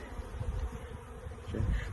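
A low, dense buzzing of many honey bees close by during installation of a package of bees, swelling slightly toward the end, with no talking.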